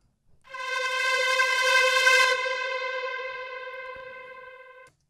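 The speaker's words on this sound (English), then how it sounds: "we have one siren effect in C" A single steady siren tone with rich harmonics swells in, holds for several seconds, then fades slightly before cutting off; clean, no other sounds.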